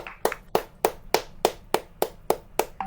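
Group clapping in a single rhythmic pattern of about nine sharp, evenly spaced claps, honoring participants at a recognition event, fairly close and clear with no talk over it.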